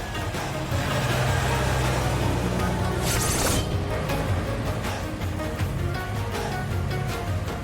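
A car being driven off, heard as a steady engine and road rumble throughout with a brief burst of hissing noise partway through, close and fairly loud with no talking.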